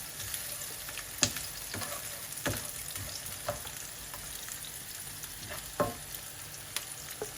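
Garlic frying in a pan for Pad Thai with prawns, a quiet, soft sizzle with scattered clicks and light scraping taps as it is stirred around.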